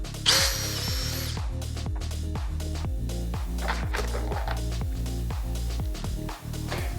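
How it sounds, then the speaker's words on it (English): A power drill countersinks holes in cabinet wood, its motor a loud, steady close-up whine with a rapid pulsing rhythm throughout, plus a brief higher squeal near the start. "Countersink 2 holes."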